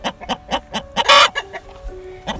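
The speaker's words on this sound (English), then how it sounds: "Here's one of our chickens laying an egg. That's usually her song that she has laid one." A backyard hen clucks her egg-laying song nearby, a steady run of short rhythmic clucks broken by one loud, harsh squawk before the clucking resumes.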